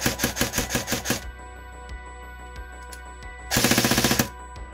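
An airsoft M14 AEG rifle fires a rapid burst of about ten shots, then stays quiet with a few faint clicks, then fires a second burst. The shots are loud, close and sharp, with no talk.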